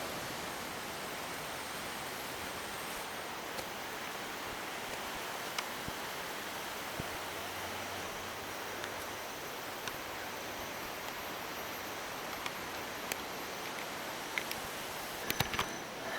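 Steady broadband rush of a waterfall in Ubud, Bali, continuous and fairly distant, with faint rustling and a few brief clicks, no talking.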